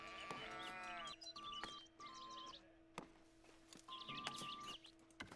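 Sheep at a farm in the video game Foundation bleat several times in a row, wavering calls over a steady game ambience with tonal chimes and occasional thunks.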